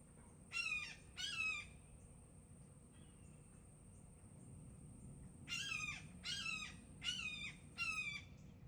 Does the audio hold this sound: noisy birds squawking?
yes